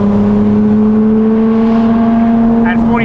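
Porsche GT3 RS fitted with a Valvetronic Designs RSR race exhaust drones loudly and steadily at around 3,500 RPM, a sustained close-up engine note with rising overtones near the end and no talk.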